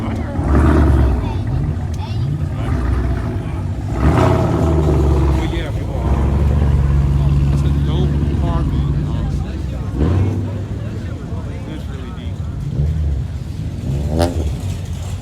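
A car's exhaust revs and accelerates in a parking lot at a Caffeine & Octane car meet, loud and close, in repeated bursts. People talk over it throughout.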